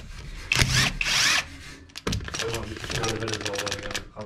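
An impact wrench whirs and rattles in short bursts, opening the variator cover on a Yamaha Booster scooter in a workshop, with voices talking close by.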